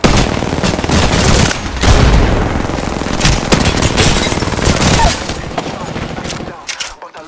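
Rapid automatic gunfire rattles through a video game shootout, loud and close, with dense overlapping bursts that trail off near the end, while a voice speaks over the fight.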